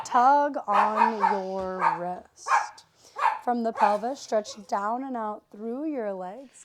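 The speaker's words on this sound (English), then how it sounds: "Sorry about the barking" An old dog barks in short bursts in a home during a yoga class, the barks mixed in beneath a woman's continuous spoken instructions.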